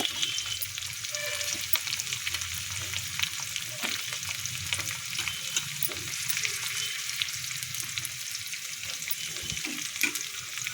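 Onions fry in a pan, giving a continuous moderate sizzle with occasional soft scrapes and clinks of stirring, steady throughout and without any voices.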